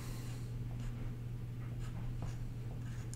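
A pen or pencil writes on a tabletop game character sheet for a 5e fantasy role-playing game, making faint, short scratching strokes over a steady low hum.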